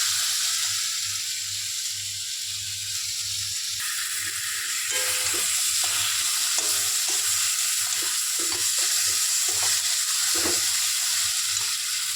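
Tomato frying with spice paste of turmeric, salt, chilli, ginger, garlic and onion for Bengali chicken kosha, a loud continuous sizzle with repeated stirring scrapes and knocks from the pan, close up, no voices.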